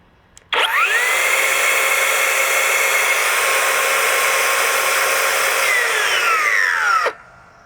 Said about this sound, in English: We have Flex's 7 1/4 right line of sight circ saw.